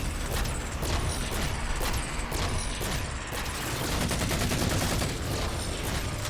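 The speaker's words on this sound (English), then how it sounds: "let's activate the auto turret" Rapid automatic gunfire from an auto turret in Halo 4 rattles continuously and loudly for several seconds, dense bursts with mechanical clatter and no pauses.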